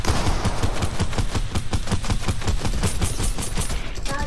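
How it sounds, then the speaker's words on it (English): Rapid gunfire from a Fortnite battle royale match, a dense, continuous burst of automatic shots in quick succession, loud and close, with no voices over it. "I shot him once"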